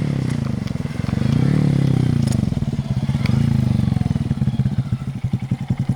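Honda Grom motorcycle with an aftermarket exhaust and its baffle removed, idling and revving close by with a loud, raspy, popping engine note that rises and falls, and a voice is briefly heard nearby.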